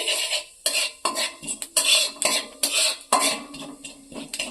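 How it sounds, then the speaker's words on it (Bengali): Nigella seeds stirred in hot oil with a metal spoon in a pan, a string of sharp scraping and clinking strokes in an irregular rhythm with brief pauses, close and fairly loud, no voices. "আমি কালা জিরেটা প্রথমে তুলে দিচ্ছি দিয়ে তেলের মধ্যে একটু নাড়াচাড়া করে দিচ্ছি"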